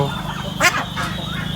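A turkey on a farm gives a single short, nasal gobbling call partway through, close and clear over a steady background hum.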